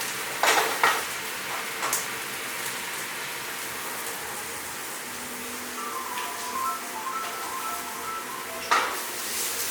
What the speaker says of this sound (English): Now, what I'm going to do is I'm going to add my peppers.